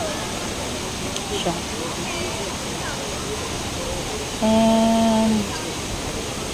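A waterfall with three drops of falling water, 14 meters high, roars in a steady broadband wash of water noise, with a voice briefly speaking over it near the start.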